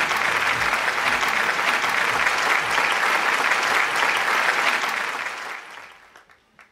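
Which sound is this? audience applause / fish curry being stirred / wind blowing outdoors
audience applause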